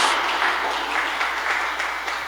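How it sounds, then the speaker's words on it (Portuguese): A church congregation applauding steadily during a worship service, a dense wash of clapping at even loudness throughout. "Aplauda o Senhor, porque Ele vive e reina."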